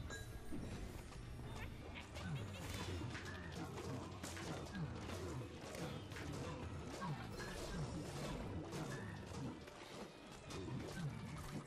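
Crashing, smashing impacts and whooshes from the Minecraft Dungeons action game as a cauldron is destroyed, a dense, continuous stream of hits and clatter filling the whole stretch at steady loudness.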